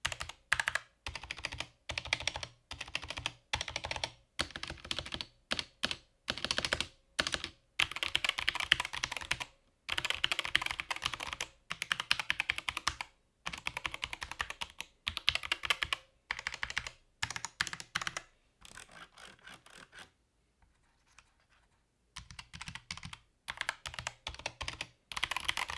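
Rapid, close typing on a Corsair K100 gaming keyboard with fast optical switches, with dense bursts of crisp key clicks broken by short pauses and a brief silent gap near the end, with no talking.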